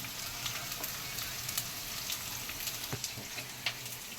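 Onions frying in a pan toward golden brown for a chicken dish, a steady, quiet, close sizzle with occasional small pops and spoon ticks, no talking.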